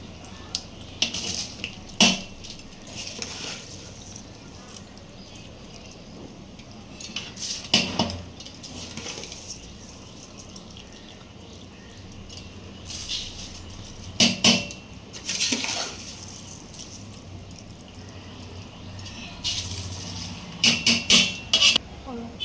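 Washed rice is stirred into boiling water for mutton biryani: irregular metallic scrapes and clinks of a spoon against a cooking pot, some sharp and loud, between quieter bubbling stretches, with occasional faint voice.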